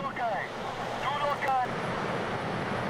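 Ocean waves and surf crash near a boat at sea in a close-call rescue scene, a steady roaring wash with wind noise, under faint whistling or tonal sounds and a bit of voice.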